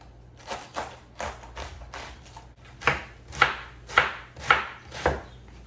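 A knife chops through cabbage for soup on a cutting board, about ten distinct thuds, soft at first and then louder and evenly spaced, close up with no talking.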